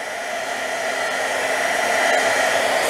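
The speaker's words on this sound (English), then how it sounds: "use your heat tool, and you're going to dry some" Heat tool blowing a steady, loud whoosh to dry pooled watercolor paint on a wash background, continuous and close for the whole stretch with no talking.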